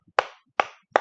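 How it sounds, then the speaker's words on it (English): Three sharp, close hand claps spaced about evenly within a second, each a crisp isolated smack in a classroom during an English grammar lesson, with no talking. "Clap your hands."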